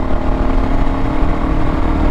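Kawasaki KLR 650 with a Yoshimura RS4 slip-on muffler running loud and close, a steady throbbing single-cylinder engine note held evenly for a couple of seconds without voices.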